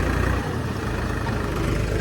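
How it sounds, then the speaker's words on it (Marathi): A tractor engine runs steadily while the tractor crosses through a river, giving a continuous low rumble that stays loud and close for the whole moment, with no talk over it. "पाठीमागे ट्रॅक्टर चालेल बघा इथं ना ट्रॅक्टर पाण्यातून"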